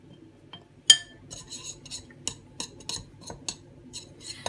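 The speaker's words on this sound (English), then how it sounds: "Give it a stir around." A spoon clinks and scrapes in a bowl while oil is stirred into breadcrumb topping for a fruit crisp, with a sharp knock near the start and then irregular light taps and scrapes, close and fairly quiet, no talking.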